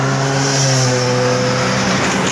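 A Kawasaki Z800 or SX1000 motorcycle roars past on a road ride, its loud, steady engine drone thick with harmonics and a slight pitch drop as it passes close by.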